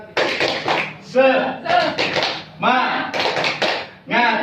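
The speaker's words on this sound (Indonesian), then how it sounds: "tepuk semangat dulu ibu-ibu ya" A group of mothers clap in a short rhythmic pattern, several bursts of claps with brief pauses, mixed with voices chanting along.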